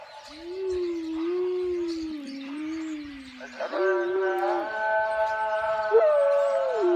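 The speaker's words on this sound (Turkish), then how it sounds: "Köpek nasıl uluyor gördünüz mü?" A dog howls in long, wavering tones at a moderate distance, joined partway through by a drawn-out, tonal call to prayer.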